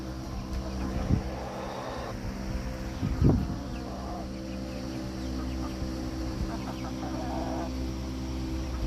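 Backyard chickens clucking softly with scattered pecking taps nearby, a few louder clucks standing out over steady low outdoor ambience.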